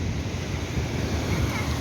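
Surf breaking on a warm Indian Ocean beach in South Africa, a steady loud wash of waves with wind buffeting the microphone throughout.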